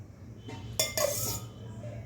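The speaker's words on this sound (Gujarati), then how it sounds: "હવે આપણે એક કઢાઈમાં તેલ મૂકીશું." A kadai is set down on the stove and oil is poured in for onion-potato curry, giving two sharp metallic clanks of the pan followed by a short clatter of utensils, close and alone without talk.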